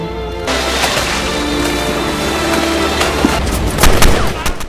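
Gunfire in an action film rescue scene, with soldiers caught in a barrage of bullets. Dense, continuous shooting and booming impacts fill the scene at loud, steady volume, building into heavier bursts near the end, with no speech.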